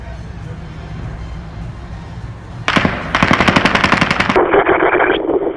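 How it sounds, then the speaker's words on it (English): Rapid automatic rifle fire from the 32nd floor of Mandalay Bay, with sustained bursts of dense, evenly spaced shots over a steady background roar, loud and continuous after a quieter opening. "Someone's firing a rifle on the 32nd floor down the hallway."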